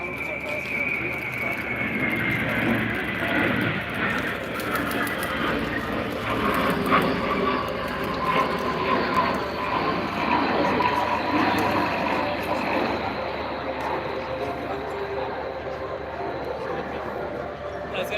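Dassault Atlantique ATL2 maritime patrol aircraft of the French Navy flying at the Royal International Air Tattoo, a steady loud engine roar sustained throughout with crowd murmur and a voice talking over it.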